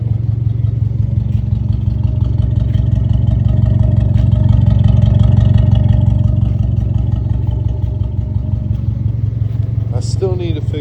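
A Honda Civic engine idles steadily and loudly up close, a continuous low mechanical hum with light clatter running throughout, with a brief higher whine near the end.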